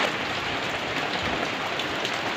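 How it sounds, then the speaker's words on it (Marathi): Heavy monsoon rain pouring steadily on a farm in the Konkan region, a dense, even roar of drops close by that continues without a break and with no voices. "हा पावसातून मुसळधारात पाऊस आहे."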